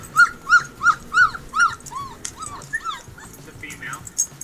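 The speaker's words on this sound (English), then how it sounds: "Let's try husky puppies crying." Husky puppies crying close up, a rapid series of high whimpers and yips in a steady pulsing rhythm, then looser whines, with faint voices in the background.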